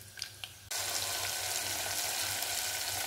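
Tomatoes drop into hot oil seasoned with fried ginger, garlic and curry leaves for a Maharashtrian dal tempering, bursting into a loud, steady sizzle that stays dense and continuous after a few quiet clinks.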